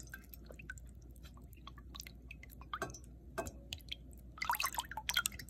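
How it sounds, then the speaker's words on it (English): A spoon stirring a sugared water and jaggery mix for water kefir: faint, scattered liquid clinks and sloshes, growing into a quick run of louder wet scrapes near the end, with no talking. "I'm going to give it a stir."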